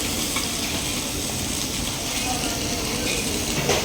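Liquid boiling in a pot, a steady close bubbling and sizzling wash that holds at an even level throughout with no pauses.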